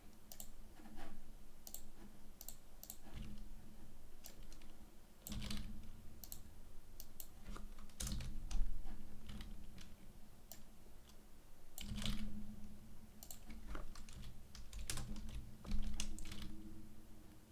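Someone types steadily on a computer keyboard while coding, with crisp close key clicks in uneven bursts and short pauses and no talking.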